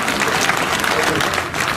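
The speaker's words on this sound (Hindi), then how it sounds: "मैं उनका भी जोरदार तालियों से स्वागत करता हूं" Loud, dense applause from a crowd at an outdoor rally against railway corporatisation and privatisation, welcoming a guest, steady throughout with a little speech mixed in.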